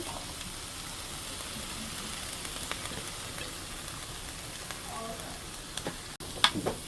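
Capsicum frying in olive oil in a pan for a creamy pasta sauce, a soft continuous sizzle with light stirring scrapes and a few louder clatters near the end.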